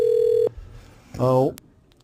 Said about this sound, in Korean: 박선규 새누리당 대변인한테 전화해 보겠습니다.